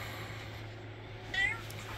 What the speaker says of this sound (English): Uh-oh, here comes another cat.